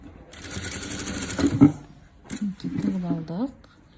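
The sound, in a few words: sewing machine stitching the fabric edge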